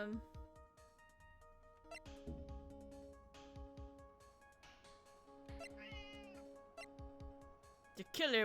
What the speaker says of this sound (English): I think this cat wants me to feed him.